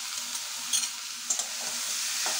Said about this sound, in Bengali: এইবার এই বরবটিগুলো দিয়ে দেবো